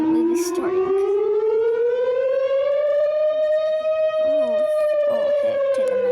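A civil defense siren sounds as part of an emergency alert system alarm, a loud sustained wail that slowly rises and swells in pitch, with faint voices briefly under it.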